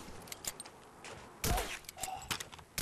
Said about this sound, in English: I love this silenced pistol.